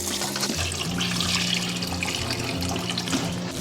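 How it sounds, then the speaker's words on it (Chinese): Pork ribs are rinsed under warm running water. The water splashes and trickles steadily and nearby for the whole stretch, with no one speaking. "我们先用温水给它简单清洗一下。"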